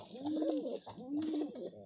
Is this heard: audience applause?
no